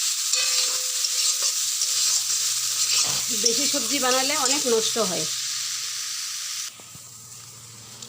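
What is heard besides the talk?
frying spices in a pan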